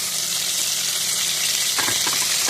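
Carrot drops into hot oil with ginger paste in a frying pan for a veg biryani, giving a steady loud hiss and sizzle, with brief stirring scrapes near the end and no voices.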